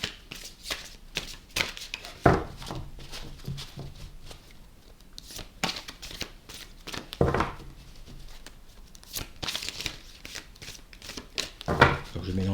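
Tarot cards being shuffled by hand, with repeated riffling and sliding bursts at an uneven pace and soft speech between them.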